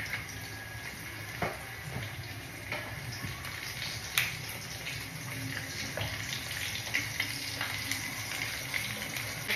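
A pork chop fries in a pan with a steady, dense sizzle and crackle throughout, and a few sharper pops stand out over the continuous hiss.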